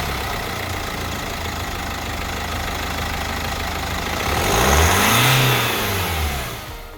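A BMW N47 diesel engine runs at a steady, even idle, then revs up loudly and briefly before settling back down. The engine note is close and continuous, and no voices are heard.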